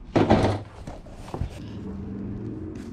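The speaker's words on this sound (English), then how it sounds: "I'll use this empty drawer here." An empty drawer slides open with a woody scrape and knock, followed by a couple of light thunks, close by in a storage unit.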